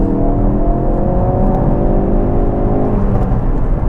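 Tuned Ford Focus RS with Dreamscience upgrades accelerating hard on a road, a loud, close engine whir climbing steadily in pitch through the gears with no talk over it.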